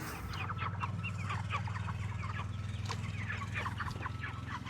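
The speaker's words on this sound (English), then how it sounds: "That is a heavy box of chicken." Chickens packed in a box on a cattle farm cluck and chatter in busy, overlapping calls over a steady low hum, with no talking.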